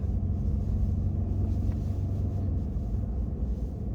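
A 2021 Ford F-150 PowerBoost hybrid pickup accelerates hard as its turbos come on, giving a steady, low engine rumble heard from inside the cab.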